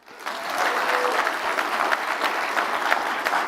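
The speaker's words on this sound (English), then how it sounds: "Another round of applause for that." An audience at an environmental summit breaks into steady applause, starting abruptly and holding as a dense, even clatter of clapping for several seconds.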